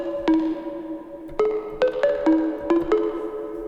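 House melody from a Serum synth detuned to 430 Hz so it sits off standard pitch, a few bright plucked notes spaced unevenly then a quicker run, each ringing briefly, with no voices.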